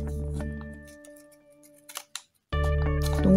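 Scissors snip through paper while a sea turtle shape is being cut out, giving a few close, crisp cuts followed by a short quiet pause and then more handling.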